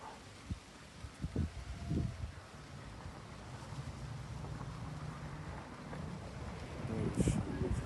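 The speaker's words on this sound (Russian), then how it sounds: "и ветер давящий." A strong, pressing wind gusts over rooftops during drizzle, a low rumbling rush that swells and buffets the microphone in uneven surges, heaviest toward the end.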